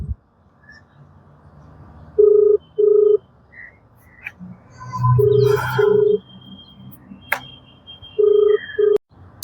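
Tones of a mobile phone call sound in repeated pairs of short, steady beeps, loud and close, with a man murmuring between them and a burst of background noise in the middle.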